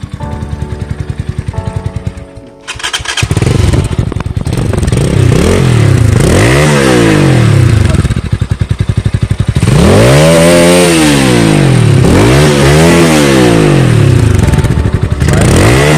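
A Motorhead Scrambler 250 motorcycle engine revs loudly and close by, rising and falling in repeated throttle sweeps after an initial idle, with a rough mechanical clatter underneath.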